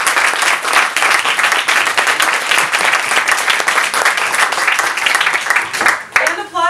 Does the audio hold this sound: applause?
yes